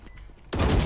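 Burst of gunfire in a shooter video game, a sudden loud rattle of shots erupting after a quiet half second and continuing to the end.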